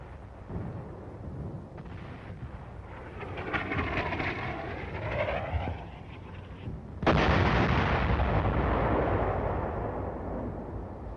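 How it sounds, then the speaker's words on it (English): An enemy artillery gun fires during the Korean War. A sudden heavy blast cuts through a rumbling, droning background, and its boom rolls on and slowly fades. "That blast of the enemy gun has been recorded as a visual image."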